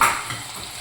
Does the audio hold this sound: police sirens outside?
no